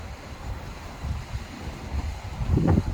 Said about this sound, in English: It's a little windy out here today.